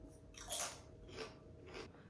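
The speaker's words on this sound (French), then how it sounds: "mais ils croustillent vraiment beaucoup beaucoup" Roast chicken and caramelized onion flavoured crisps are bitten and chewed, three crisp crunches at a steady pace, close up and fairly quiet.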